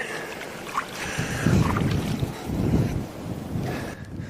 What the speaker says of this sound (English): it has got ridiculously windy